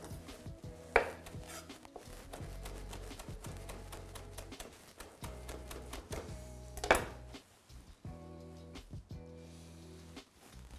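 Chives for garnish are chopped with a knife on a cutting board in quick, steady rhythmic bursts of close, crisp taps, pausing briefly between runs, with a couple of louder knocks.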